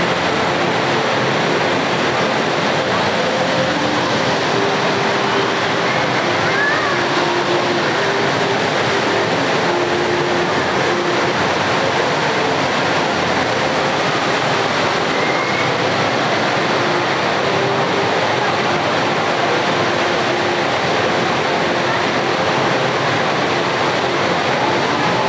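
Steady roar of falling water from the tall indoor waterfall at Jewel, Singapore Changi Airport, a continuous broadband rush that holds evenly throughout without any voices.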